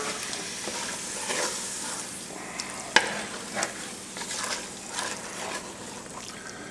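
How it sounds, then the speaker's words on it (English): A spoon stirs through chicken etouffee with diced tomatoes, Cajun seasoning and Worcestershire sauce, wet scraping strokes over a soft sizzle, with one sharp clink against the pot partway through. "And we're going to give this a good stir."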